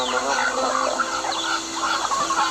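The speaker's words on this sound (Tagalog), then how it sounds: "para po lumapit yung mga manok po" Chickens clucking on a farm as they gather around someone feeding them, a steady overlapping flock chatter at close range with a few louder calls rising above.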